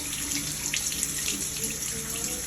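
Water running steadily from a bathroom sink faucet while hands are washed at a resort, a continuous close hiss with light splashing, no talking.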